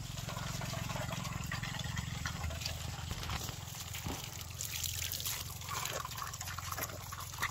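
Water runs steadily from a tap at a farmhouse, a continuous trickling, splashing flow with a low rumbling undertone, close and fairly even throughout, with no voices.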